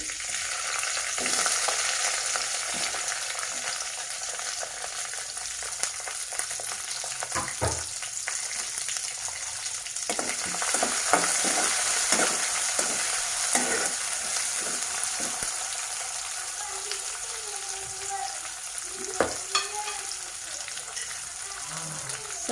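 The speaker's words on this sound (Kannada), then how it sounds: "ಕರಿ ಲೀವ್ಸ್ನ ಹಾಕೋತಾ ಇದ್ದೀನಿ ಹಸಿಮೆಣಸು ಮತ್ತು ಆನಿಯನ್ ಹಾಕೋತಾ ಇದ್ದೀನಿ" Curry leaves, green chillies and onion sizzling in hot oil for vermicelli upma, a continuous loud frying hiss with scattered stirring scrapes and clinks throughout.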